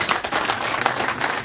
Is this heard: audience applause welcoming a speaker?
yes